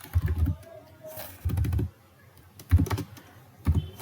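Keys clatter on a computer keyboard in four short, close bursts of typing separated by brief pauses.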